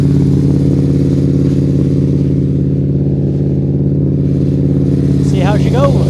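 A Polaris Sportsman 400 ATV engine, running rough after mudding, drones loudly and continuously at close range with a steady mid-range hum, and a brief squeal or whine rises near the end.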